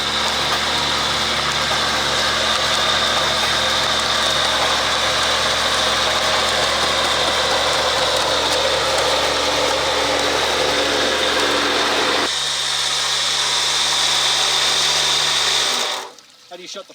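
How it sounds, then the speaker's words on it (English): A water pump engine drones continuously at close range at a sluicing mining site, loud and unchanging, then cuts out abruptly near the end leaving near silence. "How do you shut the pump off?"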